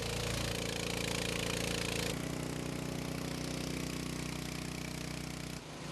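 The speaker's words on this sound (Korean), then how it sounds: "물을 빼는 모터 소리만이 쉼없이 울리고 있다" A motor-driven water pump drains floodwater from a flooded, unpowered alley after a record 2011 downpour, giving a loud, steady mechanical drone with a rapid rattling pulse. The tone shifts about two seconds in, then drops briefly near the end.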